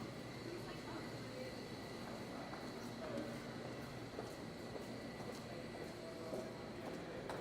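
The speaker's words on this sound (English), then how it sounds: "arguably one of the most beautiful train stations in the world." Main concourse of a large train station in New York City at night: a steady, even hum of crowd murmur and distant station noise, with faint scattered clatters and no single sound standing out.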